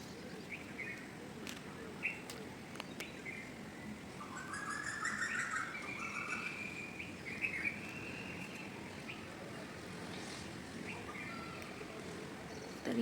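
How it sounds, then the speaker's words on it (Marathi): Birds chirp and whistle in the early morning, faint and distant, with short bright calls over a soft steady outdoor hum. Nobody speaks. "तर या ठिकाणून मला पक्ष्यांचा आवाज येत होता."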